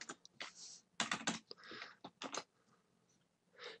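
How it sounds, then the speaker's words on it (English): Typing on a computer keyboard while working in Dreamweaver design view, heard as short bursts of close, crisp key clicks separated by brief pauses. "I can actually type whatever I want"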